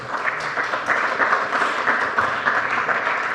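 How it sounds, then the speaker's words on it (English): An audience applauds steadily for a few seconds, a dense, even wash of clapping with no talk over it. "Give her a round of applause."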